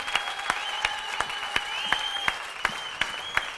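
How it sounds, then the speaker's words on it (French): Live concert audience at the NEF in Saint-Dié applauding three musicians, steady crowd applause with distinct rhythmic claps standing out and a sustained tone running underneath. "Je vais demander encore une fois au public d'applaudir comme il se doit ces trois musiciens"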